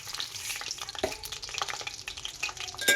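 Coriander seeds fry over a low flame with a soft, close crackle and faint popping, broken by light stirring scrapes, with no voices.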